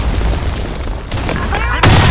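Grenade blast in the Blackshot shooter game, a loud broadband burst near the end following a constant roar of gunfire and game noise, with voices calling out in the background.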